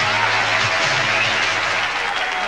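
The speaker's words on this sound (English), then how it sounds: "We get applause here for a commercial." Studio audience applause on a late-night television show, a dense, steady wash of clapping that stays loud and even throughout.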